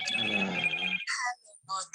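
A new mobile phone rings with a bright warbling ringtone at a meeting, chiming on in short bursts with gaps between, the tone shifting slightly across each burst.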